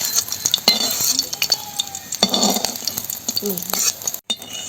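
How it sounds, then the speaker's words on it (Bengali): Paneer pieces fry in mustard oil in a pan, with a steady sizzle under scraping stirs and light clinks of a utensil against metal throughout, close and fairly loud. "আমি কিন্তু সরষের তেলে ভেজে নিই পনিরগুলো দেখো লাল লাল করে এই যে ভেজে নিলাম"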